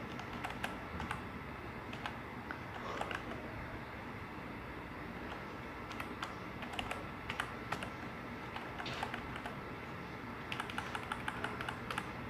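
Rapid typing on a computer keyboard while writing an HTML iframe tag, steady clusters of key clicks running throughout over a constant low background hum.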